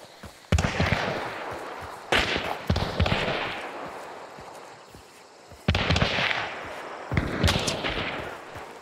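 Gunshots echo across the map in the video game Hunt: Showdown, four heavy booming reports spaced a few seconds apart, each with a long rolling echo and trailing crackle.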